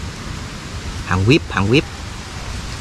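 A rainstorm pours down while snake traps are checked outdoors in Vietnam, a constant broadband hiss of heavy rain heard throughout, with someone speaking briefly over it in the middle.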